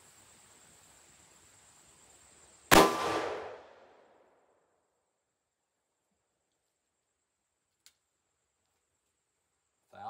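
A single sharp gunshot from a 2-inch Rossi revolver firing a 158 grain Hornady flat point XTP bullet, loud and close, with a short ringing decay into near silence followed by a faint later click.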